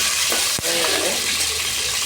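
Peanuts and chana dal fry in a hot pan with a steady broadband sizzle, broken by a single sharp tap or stir near the start, continuous and fairly close with no talking.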